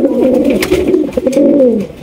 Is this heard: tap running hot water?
no